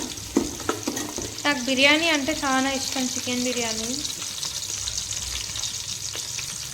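Ingredients for chicken biryani sizzle and fry in a pan with steady, close crackling and occasional stirring scrapes, while someone talks over the cooking.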